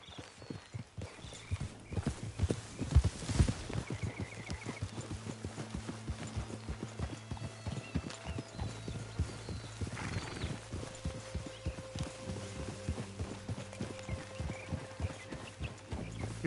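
Horse hooves clip-clopping at a steady gallop in Red Dead Redemption 2, with occasional whinnies, a continuous rhythmic drumming of hoofbeats close by amid low game ambience and music.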